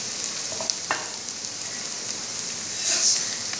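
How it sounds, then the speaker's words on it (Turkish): Buckwheat poured into a pan of frying onions and peppers, giving a steady bright sizzle throughout with a few stirring clicks and a louder burst of crackling near the end. "Hemen karaburgayı döküyoruz"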